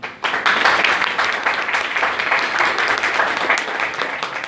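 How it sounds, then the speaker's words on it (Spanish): Students in a class burst into applause, a dense, loud patter of many hands clapping together for several seconds with no talk over it. "los que quieren que le ponga 2 puntos,"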